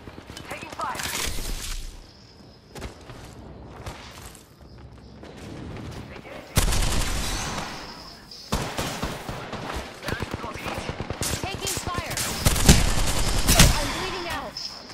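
Gunfire from the Apex Legends video game crackles in rapid automatic bursts and single cracks, some close and loud, with quieter gaps and footsteps between volleys, while a player's voice talks over parts of it.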